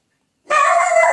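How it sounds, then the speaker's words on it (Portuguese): A little dog barking: one short, bright, sustained yelp-like call starting abruptly after a brief silence, close and fairly loud, with no talk. "Agora é o cachorrinho latindo"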